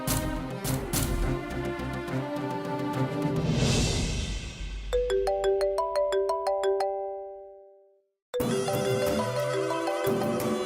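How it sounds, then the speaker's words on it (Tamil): A mobile phone rings with an incoming call, a melodic electronic ringtone playing in bright repeated phrases, fading out, cutting to silence, then starting again loudly in a Tamil TV serial scene. "சக்தி மேடத்துக்கு கால் பண்ணும்."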